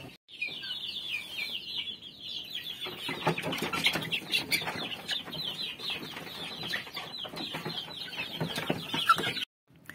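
A flock of chickens being fed stale rice clucks and chatters continuously, with dense overlapping calls, occasional wing flaps and a steady high twittering, close and fairly quiet.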